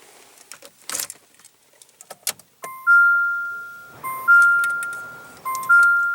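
After some faint clicks and rustling, a 2015 Jeep Renegade's electronic chime dings three times in a repeating two-tone pattern, clear and close.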